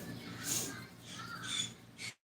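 Pet birds calling indoors, a few harsh, raspy squawks in uneven bursts, moderately close but fairly quiet.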